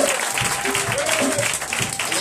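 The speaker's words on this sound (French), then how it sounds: "Est-ce qu'on peut acclamer Jésus-Christ?" A church congregation at a Sunday worship service applauds and cheers for Jesus, a dense, continuous wash of clapping with voices mixed in.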